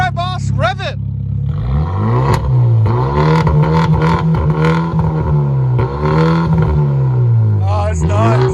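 A 2014 Hyundai Genesis Turbo with a straight-pipe dual exhaust revs hard on a cold start, deep rising and falling engine roars repeating close and loud, with people talking over it.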